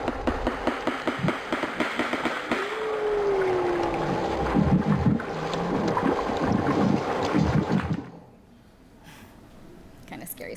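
A recording of walrus vocalizations plays back with a gliding moan over dense, rumbling, knocking calls and noisy underwater texture, fairly loud for about eight seconds before dropping to quiet background noise.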